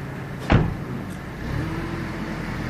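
A car is driven in, its engine humming low and steady close by, with a sharp brief knock or door-like thump near the start.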